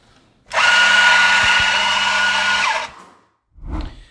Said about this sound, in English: let's fire this thing up and get to grinding